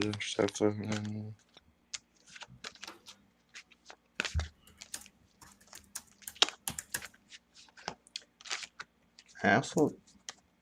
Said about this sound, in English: Just give me a moment while I shuffle my cards then.